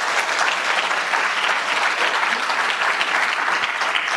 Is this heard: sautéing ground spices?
no